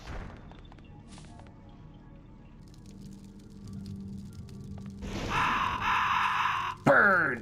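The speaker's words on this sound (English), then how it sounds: "Birds!" Birds caw harshly in the horror video game Cradle of Nightmares. Several raspy calls burst out loudly near the end after a quiet, low ambient stretch.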